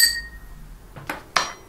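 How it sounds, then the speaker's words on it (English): A sterilising tablet is stirred in a glass tumbler, making a brief ring of glass and then two light, close clinks in quick succession, quiet and with no voices. "in the tumbler, give it a bit of a stir,"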